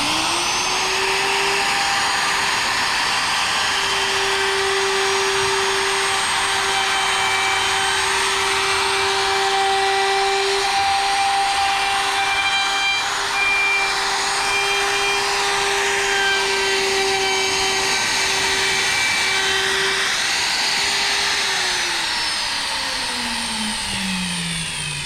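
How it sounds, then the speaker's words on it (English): A power tool bit spins up with a steady, loud whine and cuts into wood, a sustained drone lasting over twenty seconds before winding down at the end. "I turn it on. I wait for the bit to get to full RPM before I start cutting into it."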